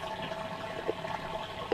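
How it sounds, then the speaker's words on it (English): Aquaponics system water running steadily in the background outdoors, a soft continuous trickle and flow with a couple of faint splashes, no voices. "In the back you can hear the aquaponics water running"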